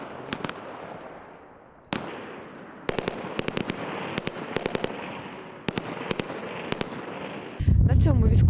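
Gunfire at a military training range during reservists' firing practice: sharp, loud shots that come singly and in rapid bursts, with short pauses between, then a rumbling blast-like burst near the end.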